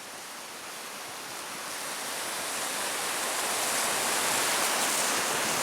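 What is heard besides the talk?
rushing river water near Vernal Falls, Yosemite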